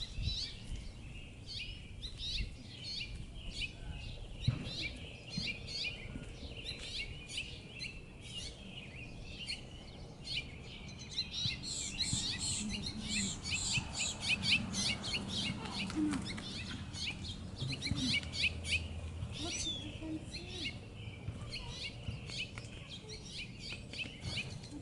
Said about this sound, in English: do you hear the birdies talking to us up there?